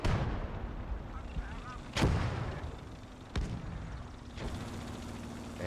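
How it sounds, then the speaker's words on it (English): Rocket launches against a tank in the video game Gates of Hell: Ostfront, a Panzerschreck firing rockets as two sharp, loud blasts ring out a second or so apart over a steady din of battle rumble. "Got these 2 rockets, see if we can maybe finally do some damage."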